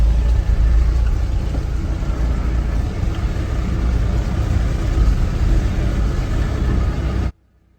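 A pickup truck drives along a rough, broken road near a thermal power station, its engine a loud, steady low rumble with rattling road noise that cuts off abruptly just before the end.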